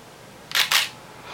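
A camera shutter is pressed to take a light reading, giving two quick, close mechanical clicks in succession, then a fainter third click a moment later against quiet room tone.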